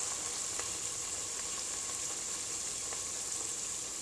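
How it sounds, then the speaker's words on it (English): Chopped onion sizzles steadily in hot oil in a pan for a Nigerian tomato rice stew, a constant close frying hiss with a few faint clicks and no talking. "I heated the oil and I put in chopped onion inside it"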